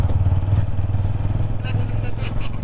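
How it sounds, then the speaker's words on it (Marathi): A motorcycle ridden toward a beach in Goa, its engine droning with a steady low rumble and slight pulsing throttle, close and continuous, with wind noise and people talking over it. "आम्ही बाईक घेऊन चाललोय बीचवर."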